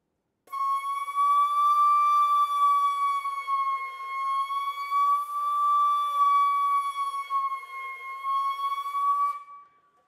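A single wind instrument holds a sustained tone, slowly bending its pitch in wide curved glides with a valve-like fingering effect, heard alone, steady and fairly loud for about nine seconds before stopping.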